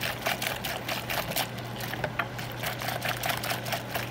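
A spoon briskly stirs a gelatin and whey protein mixture in a cup, producing quick, irregular scraping and swishing strokes close by, with a steady low hum underneath.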